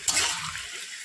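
Water poured briefly into chicken curry in a pot, a short rushing splash that starts abruptly, then fades into a softer hissing trickle, close and moderately loud, no talk.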